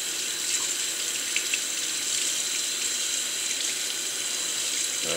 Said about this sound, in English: just gonna take this, man, and just wash them off real good